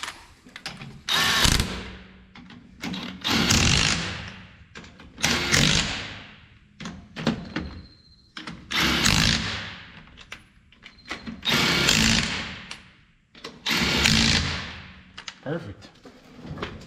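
Power tool snugging lug nuts on the wheels of a 2006 Silverado, repeated bursts of whirring rattle about every two seconds, fairly close, separated by short pauses.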